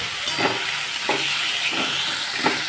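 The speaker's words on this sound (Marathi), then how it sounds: "टोमॅटोला आता शिजू देऊ" Tomatoes cooking for pasta in a pan over a medium flame with salt added, a steady close sizzle and hiss broken by a few soft stirring scrapes.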